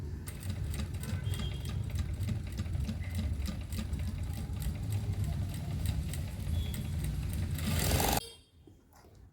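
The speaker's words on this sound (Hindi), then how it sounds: "ये जो सिलाई है इसी के ऊपर से हमको फिर से सिलाई चलानी है।" A sewing machine stitches a hook onto fabric, running steadily with a rapid rhythmic needle clatter for about eight seconds before stopping abruptly, leaving quiet.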